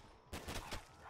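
A Python revolver in a custom zombies video game fires one sudden burst that starts abruptly and rings out briefly, quiet and somewhat muffled, with no speech.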